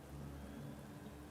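Steady, faint rain hisses evenly in a Gran Turismo 7 race, light rather than heavy, with no voices over the wash of drops.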